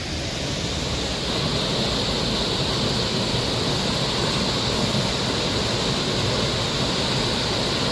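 Water rushes at a waterfall in a loud, unbroken broadband roar that holds steady and close throughout, with no voices.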